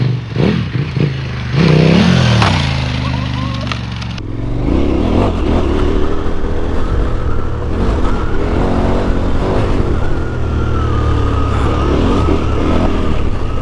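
KTM 1290 Super Adventure S motorcycle ridden off-road on a festival course, its engine droning loud and steady with revving surges, close and continuous throughout.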